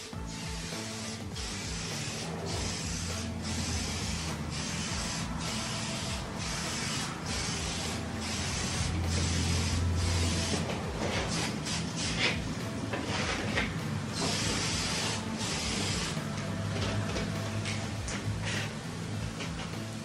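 Aerosol spray paint hissing onto car bodywork in repeated bursts, a close steady spray broken by short pauses and faint handling clicks.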